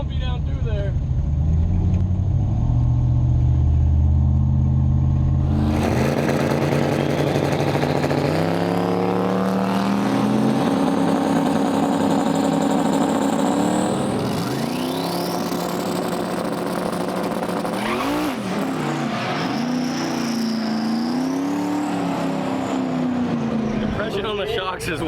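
A GapTrain S10 race truck drives on a prepped track with its engine revving and changing pitch as it accelerates and shifts, loud and close throughout.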